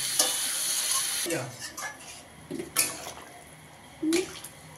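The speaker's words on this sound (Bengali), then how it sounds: "এখন আলু ফুলকপির তরকারিটা কষানো হচ্ছে" Potato and cauliflower curry is stirred and fried in a pan, a soft continuous sizzle broken by a few scraping stirs of the spoon, close and fairly quiet.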